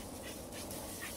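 Dog panting rapidly with faint whimpers in a forest, close by and fairly quiet against a soft outdoor background.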